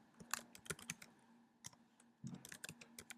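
Computer keyboard keys clicking in short irregular bursts while terminal commands are typed, with a brief pause midway before another quick run of keystrokes; close and fairly quiet.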